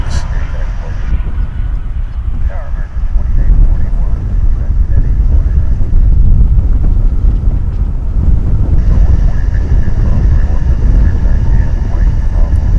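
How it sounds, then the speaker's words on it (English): A passenger jet arrives at DFW Airport, its loud, steady roar broad and rushing for the whole stretch and swelling slightly midway, mixed with wind buffeting the microphone. "This flight's coming in from Colorado Springs."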